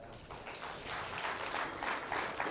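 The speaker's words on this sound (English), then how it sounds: "Clap for yourself." A church congregation clapping for themselves during a service, a moderate, steady patter of many hands that swells slightly over a couple of seconds, with no voices on top.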